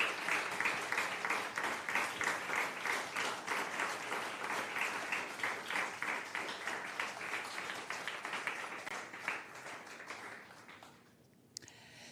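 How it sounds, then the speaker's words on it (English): Audience applause for panelists at a gathering, a sustained, even round of clapping from a crowd that carries on for about ten seconds before fading out quickly into near quiet. "So a round of applause, please, for our panelists."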